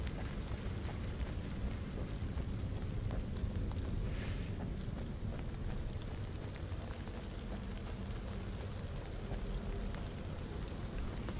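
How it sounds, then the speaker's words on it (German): Steady rain hiss in the video game The Land of Pain fills the whole stretch, a dense, even wash of falling water with a brief brighter burst partway through. "Der Regen ist ein bisschen komisch"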